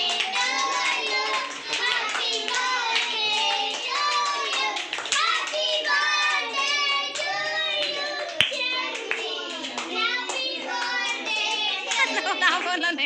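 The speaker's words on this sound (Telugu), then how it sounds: "క్లాప్స్ కొట్టండి." Children at a birthday gathering clap and chatter continuously. Many small voices overlap with dense, irregular hand claps and one sharp slap partway through.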